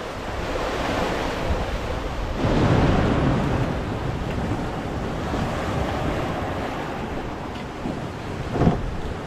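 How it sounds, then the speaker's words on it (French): Open-sea waves surge and rush around a sailboat in strong wind, a continuous loud roar of water and wind with gusty swells and a sharper splash near the end, with no voices. "ça donne bien une idée quand même de la puissance des vagues de temps en temps, hein, qui poussent au cul"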